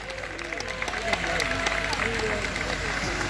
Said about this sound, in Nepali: सबैले जोरदार ताली बजाइदिनुहोस्